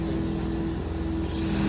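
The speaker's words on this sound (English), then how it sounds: "we're going to launch the tether drone" Tethered drone lifting off at a stump-removal field demonstration, its steady rotor whine and low engine-like rumble holding constant and fairly loud throughout, with no voices.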